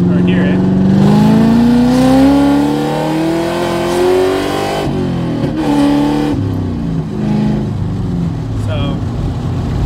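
Cammed C5 Corvette Z06 V8 accelerating hard, heard from inside the car as a loud, rising engine roar that climbs in pitch through the revs, drops at a gear change around midway, then pulls again.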